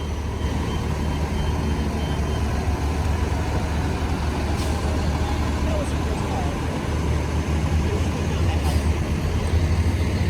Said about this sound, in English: there goes our bus leaving right in front of us